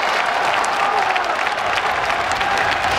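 Stormy applause from spectators at an indoor football match between Austria Wien and Rapid Wien in Vienna's Stadthalle, dense continuous clapping filling the hall throughout.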